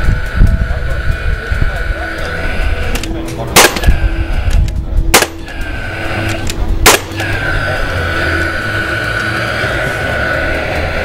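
Paslode nail gun driving nails, three sharp loud reports spaced about 1.5 seconds apart over background workshop noise and murmured voices.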